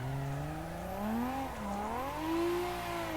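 Simulated Nissan Laurel with an RB engine drifting in Assetto Corsa, its engine note wavering up and down as revs rise, dip and climb again, steady and continuous with no talk.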